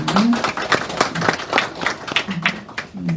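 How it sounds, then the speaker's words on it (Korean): Congregation applauding in a church during an ordination service, a steady patter of clapping hands across the room with occasional short voice tones mixed in. "박수로 환영해 주시기 바랍니다"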